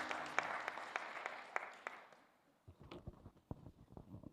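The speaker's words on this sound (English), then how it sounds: "A big clap to you." Applause at an afternoon conference session, a fairly faint wash of clapping that fades out after a couple of seconds, followed by scattered individual claps and light knocks.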